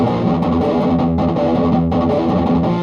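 Electric guitar riff played through heavy turbo distortion, loud and dense with sustained chugging chords and two brief cutoffs.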